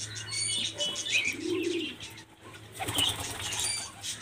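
Pigeon flapping its wings while held in hand at a pigeon flyer's loft, with soft irregular wingbeat flutters and faint bird chirps and coos nearby, no speech.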